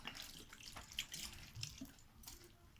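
Tap water runs into a sink while raw meat is washed, a faint close splashing and trickling with small irregular splashes over about three seconds, no voices.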